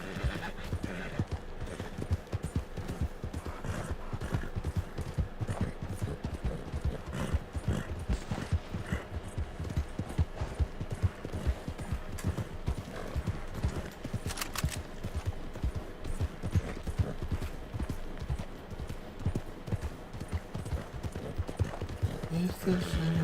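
Rapid rhythmic hoofbeats clip-clop continuously throughout, a galloping video game horse with a brief whinny, while a person talks over it.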